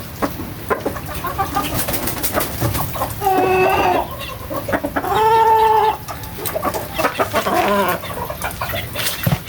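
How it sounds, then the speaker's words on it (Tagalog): Chicks and hens in a backyard flock cluck and peep continuously close by, with two longer drawn-out calls standing out in the middle over the steady chatter of the birds. "Buti dito lang palakad-lakad yung aking mga sisiw."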